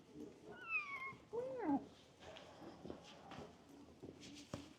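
A cat meows twice in quick succession, close and fairly clear, with a short rising and falling call, followed by soft footsteps and faint movement in a quiet room.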